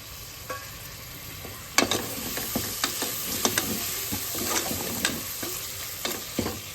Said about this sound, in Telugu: ఇప్పుడు ఉల్లిగడ్డ అయితే మొత్తం వేగిపోయింది ఇలానైతే టమాటా వేస్తున్నాను నేను